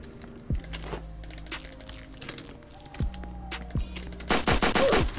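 Gunfire in the online survival game Apocalypse Rising, several sharp single shots spaced over a few seconds, then a dense burst of rapid shots near the end, moderately loud over a low engine-like hum.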